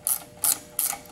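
A ratcheting wrench loosening a jam nut to release belt tension on a Lavina L32 planetary floor machine, four evenly spaced, close metallic ratchet clicks.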